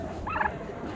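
At a bird auction with breeder pens, a hen turkey gives one short warbling call that sits over a steady low hum of background noise, moderately close, with no talk.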